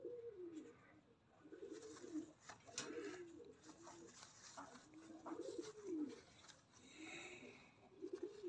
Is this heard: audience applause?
no